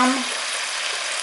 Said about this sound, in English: Or actually put it on low because mine's sizzling here.